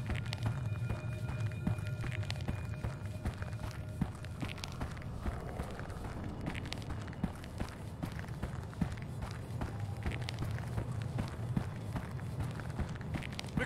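Heavy, steady footsteps of a large creature in the game Unforgiving: A Northern Hymn, a continuous low thudding rhythm over droning game ambience at moderate level.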